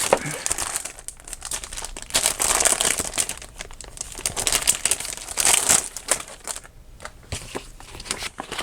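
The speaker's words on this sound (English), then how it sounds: "I probably will have to take it out of the plastic." Plastic packaging crinkles and crackles continuously while items from a mixed household haul are unwrapped and fitted into place, close and fairly loud with bursts of rustling and no speech.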